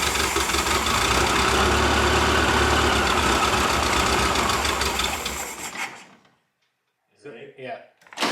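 A 1975 Volkswagen Super Beetle engine, run after sitting for 20 years, idles loudly and close with a rough, steady air-cooled rumble for about six seconds before cutting out, followed by brief faint clatter.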